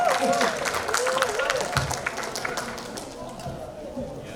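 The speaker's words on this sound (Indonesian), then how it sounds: "Tepuk tangan lebih meriah lagi dong." Audience applause at a talk in a hall holding around 300 people, with busy clapping that starts full and gradually thins out, while a voice speaks over it near the beginning.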